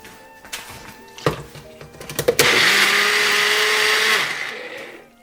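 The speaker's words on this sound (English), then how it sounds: "Let's go put this in a blender." After some clattering and clicks, a blender starts and runs steadily for about two seconds with a loud whirring whine, then spins down and stops.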